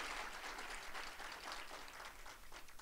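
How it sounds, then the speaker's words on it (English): Audience applause at a faculty and staff assembly, a steady wash of many hands clapping at moderate distance, fairly faint and continuous throughout with no voices over it. "let's give him a round of applause"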